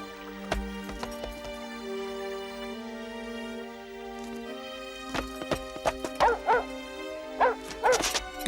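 Cinderella's dog barks in a French-dubbed Cinderella cartoon, several sharp yaps clustered near the end over a sustained orchestral music bed, with a few clip-clop-like hits earlier.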